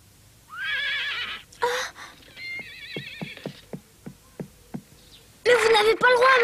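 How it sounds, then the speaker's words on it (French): A cartoon pony whinnies several times, with a run of crisp hoof clip-clops between the calls and a loud final neigh, all fairly close. "C'est le poney de mademoiselle Sarah, il n'est pas à vous"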